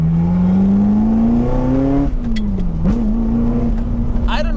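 Ferrari F355 with a straight-pipe style exhaust and open valves, a loud, steady engine drone climbing slowly in pitch, dipping briefly, then holding a sustained note at low speed.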